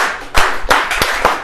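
A few sparse claps from an audience at a comedian's stand-up show at Dickinson College, about four separate sharp hits spread over a moment, fairly close and with no voices.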